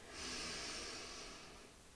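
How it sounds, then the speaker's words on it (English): A single long, deep breath drawn in during a calm pre- and postnatal stretching and relaxation session, soft airy hiss swelling and fading over about two seconds, close and alone without talk. "Taking one more big breath in."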